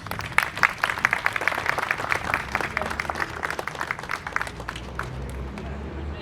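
An audience at a press conference applauds steadily, dense clapping that gradually thins out and fades toward the end.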